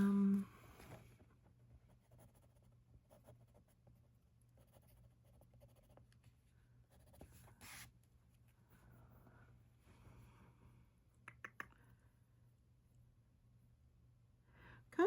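A colored pencil moves over paper in soft, faint scratchy strokes, steady and close, with a low hum in the background and a few brief louder taps.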